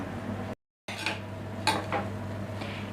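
Drumstick pieces stirred into aviyal in a metal pot, with a few scraping, clinking strokes of a spoon against the pot against a low kitchen hum; there is a short gap, then a few more scattered clinks.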